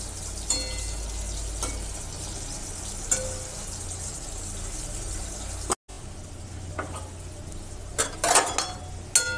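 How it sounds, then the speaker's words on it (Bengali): Bitter gourd pieces frying in a pan, a steady close sizzle with occasional sharp clinks and scrapes of a spatula against the pan, and no talk. "এরকম একদম লালচে লালচে করে করলাগুলো ভেজে নিতে হবে।"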